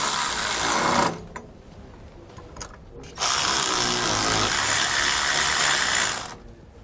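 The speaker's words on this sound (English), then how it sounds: "You can then go back and tighten on all your hardware with a 15mm socket." A ratchet with a 15mm socket tightening the hardware of SumoSprings Rebel helper springs on a 2017 Thor, heard as two bursts of rapid, close ratcheting clicks separated by a short quieter pause.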